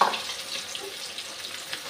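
Sweet potato slices frying in a pan of oil, a steady soft sizzle and crackle with faint scraping near the start, close and continuous with no talk.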